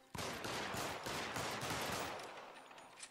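Rapid burst of gunfire from a pistol or rifle in the crime game LA Noire, several sharp shots fired in quick succession over about two seconds and then fading out, with no talking.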